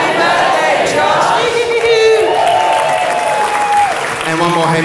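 A large studio audience at a comedy panel show cheers and applauds for a birthday, a loud, dense, sustained roar of clapping and whooping with voices shouting over it.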